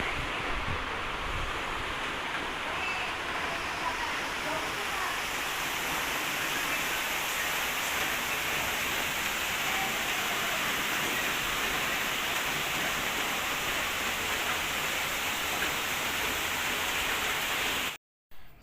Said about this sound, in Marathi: दुपारनंतर तर भरपूर पाऊस चालू झाला